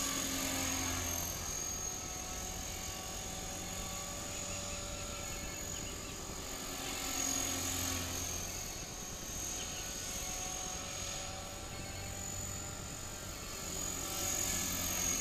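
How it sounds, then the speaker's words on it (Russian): Helicopter flying just above the trees: a faint, steady rotor drone heard from a distance, continuous throughout. "Но лопасти прям воздух режут."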